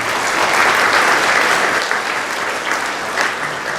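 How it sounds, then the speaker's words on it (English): An event audience applauds the Islamic Society of South Australia at its 70th anniversary, a loud burst of dense clapping from a large crowd that eases slightly toward the end. "give them a round of applause for the great work that they've done"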